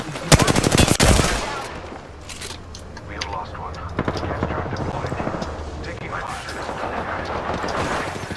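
Gunfire from the video game Apex Legends opens with a loud rapid burst of automatic shots, then continues as scattered shots and game noise, with a voice talking over it.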